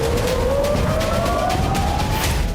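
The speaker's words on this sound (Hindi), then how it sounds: "और जब वो इजराइल के आसमान में पहुंचे तो सायरन बजने लगे" Air raid sirens wail across Israel during an Iranian drone attack, a loud sustained tone slowly rising in pitch over a dense rumbling background, with no voices.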